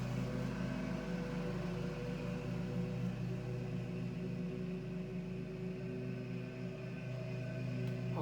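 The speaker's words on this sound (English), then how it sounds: "I know you can hear the lawnmower in the background" A lawnmower engine drones steadily in the background throughout, a continuous low mechanical hum with faint harmonic whine, moderately distant and unbroken by speech.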